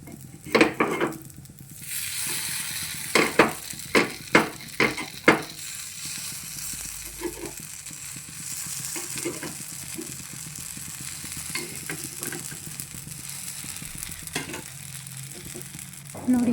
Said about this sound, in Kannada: ಇವಾಗ ನೋಡಿ ಗುಂಡ್ಪಂಗ್ಳ ಹಾಕ್ತಾಯಿದ್ದೀನಿ